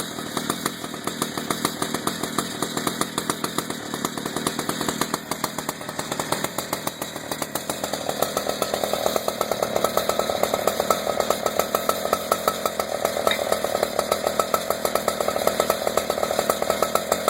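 Several chainsaws, one a wood-cutting saw, idle steadily as they cool down, a continuous close buzzing engine drone that rises slightly in level partway through with no voices.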